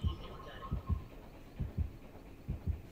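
A steady double-thump heartbeat from the horror game Dead by Daylight pulses low and heavy, three paired beats in even rhythm over a faint ambient hum.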